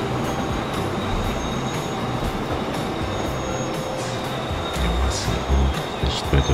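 Elevated train braking in Transport Fever 2, a railway building video game; a continuous loud rolling rumble of wheels on track with high squealing and clanking that swells toward the end.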